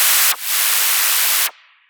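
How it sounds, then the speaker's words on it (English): A harsh dubstep noise synth run through a ring mod effect blasts in two loud bursts of bright, buzzy static, separated by a brief dip, then drops to a faint fading tail. "we have this really annoying noise, which is probably just going to be our noise right here, with a ring mod effect on it"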